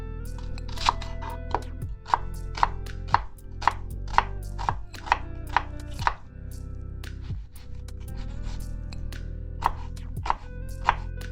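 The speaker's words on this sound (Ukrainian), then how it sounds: "Нарізаємо цибулю кубиками." Knife dicing onion on a board in a quick, steady rhythm of sharp taps, close up, with a low hum running underneath throughout.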